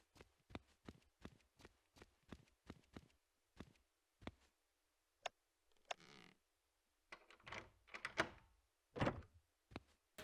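Footsteps through the rooms of the horror game Cannibal Abduction, then a door being unlocked with a key and opened, heard as a quick run of rhythmic steps followed by clicks, thumps and creaking.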